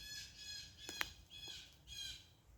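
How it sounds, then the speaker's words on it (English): A blue jay in the woods gives several harsh, piercing screams with gaps between them, fairly near and loud against quiet forest background. "Blue jay screaming"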